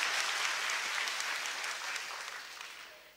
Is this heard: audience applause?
yes